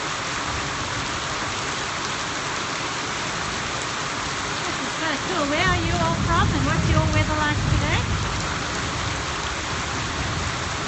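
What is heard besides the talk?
heavy rain falling during a drought in Johannesburg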